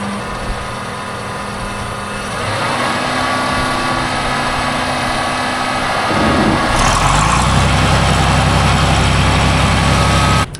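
A John Deere 4010 tractor engine runs after being pull started, a loud, steady diesel drone that deepens and settles into a heavier idle partway through, close by with no talking.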